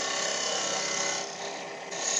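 A small wooden peg being turned and sized with a 4mm spanner, a steady close scraping rasp that eases slightly toward the end, no speech.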